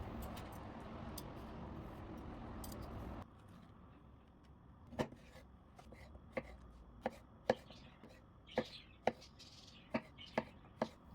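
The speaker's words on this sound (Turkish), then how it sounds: "Kabakları doğramaya devam ediyorum." A knife chops through zucchini on a board in a series of sharp, regular strikes, following a brief stretch of louder background noise.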